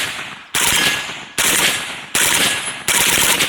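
Zastava M90 rifle, worn after about 7000 rounds, firing a full magazine in four rapid-fire bursts, each a dense loud rattle of shots separated by short pauses, close and harsh.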